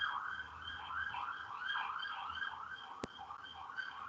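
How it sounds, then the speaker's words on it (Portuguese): An ambulance siren wails in a steady, repeating up-and-down pattern as it passes along a nearby street or highway, heard from indoors at moderate distance, with one sharp click partway through and no speech. "ambulância aqui passando."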